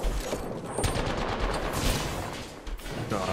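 Bursts of video game gunfire crackle in a busy battle-royale match, rapid shots fired in clusters over a dense, noisy background.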